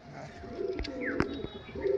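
A male pigeon of an old-line Kalpora Kaldom flying breed gives low, faint coos with a few sharp clicks and chirps mixed in nearby.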